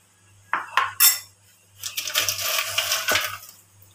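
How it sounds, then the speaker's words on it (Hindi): Ice cubes tumble into a blender jar for a mango shake, giving a few sharp clinks followed by a longer rattling clatter, close and fairly loud with no voices. "थोड़ी सी बर्फ डाल देती हूँ।"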